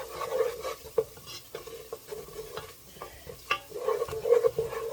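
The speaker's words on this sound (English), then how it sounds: "Start stirring immediately." A spoon scrapes and stirs around a pot as flour cooks into a roux for Cajun jambalaya, the strokes coming in an uneven rhythm over a faint, low sizzle, with no voices.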